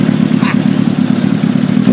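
Kawasaki ZX-7R motorcycle engine running close and loud, a rough, throbbing growl holding steady with a brief higher flare partway through.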